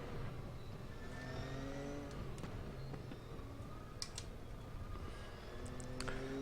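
A Nissan GTR GT3 race car in a racing video game at Bathurst, its engine droning steadily with pitch sweeps as it downshifts and spins out, other cars' engines layered faintly around it.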